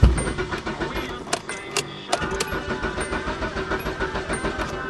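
A 1992 Nissan Sentra engine being cranked and coaxed to start, with repeated uneven starter bursts and stuttering engine catches up close, a brief lull near the middle, then a rough, pulsing run.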